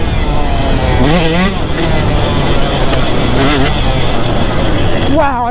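A two-stroke motorcycle revving hard while ridden, its high buzzing engine rising and falling through repeated throttle blips, loud and close, with a rider's voice heard briefly over the ride.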